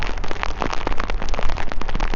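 Steady rain falls outdoors on the Breton coast near a megalithic gallery grave, with a dense patter of drops hitting close by. It is loud and continuous for the whole moment, with no talking.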